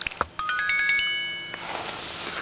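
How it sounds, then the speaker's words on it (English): Nintendo DSi PictoChat message-received chime: a short bright melodic ding-dong, clear and close, sounding alone after a couple of faint taps. "This chime is not built into the Nintendo DS's firmware."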